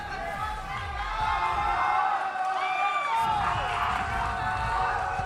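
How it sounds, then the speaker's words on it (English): A crowd at a fighting game tournament whoops and cheers loudly, a sustained roar with rising shouts and scattered voices over a dense, ongoing din. "Yo, they still cheering and they lost."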